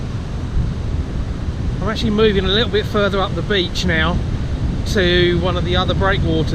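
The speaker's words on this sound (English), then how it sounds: "Wind is pretty harsh" Harsh wind buffets across a beach near the breakwaters, a constant low rumbling roar with surf noise underneath, while someone talks over it close to the microphone.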